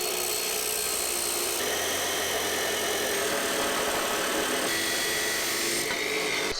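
A power saw cuts steadily during a workbench build, a loud, continuous, raspy whine with a slight shift in pitch partway through, close up and without speech.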